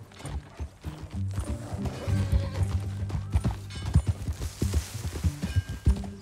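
Horse hooves clip-clopping in Red Dead Redemption 2, an irregular run of hoof strikes rising and thickening as the horse gets moving, with a soft snort or whinny mixed in amid faint ambient sound.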